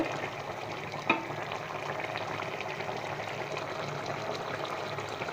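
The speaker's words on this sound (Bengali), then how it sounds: "হালকা করে নাড়াচাড়া করে দেবো" Stuffed pointed gourds with a lentil filling cook in curry in a pan, a soft continuous bubbling sizzle with one brief clink of stirring early on.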